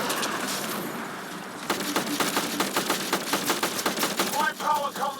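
Rapid gunfire in the video game Mass Effect Andromeda, where the player uses a shotgun: dense, continuous cracks over a steady noisy battle bed, loud and close, with a brief voiced sound near the end.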